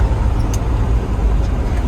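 A 1954 Chevrolet 5-window pickup with a 3-speed automatic transmission, its engine running with a loud, steady low rumble close by, alone without talk.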